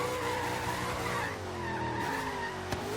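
A supercharged El Camino with a raked stance drifts in Forza Horizon 3, its tires squealing in a long, wavering screech over a steady engine drone, with one brief knock near the end.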